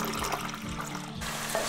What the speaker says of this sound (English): And then pour in the sauce.